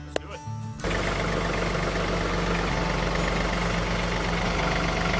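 A tractor engine idles in a steady low, even drone while a trailer is hitched to it. A short burst of handling noise opens, then the engine runs on alone.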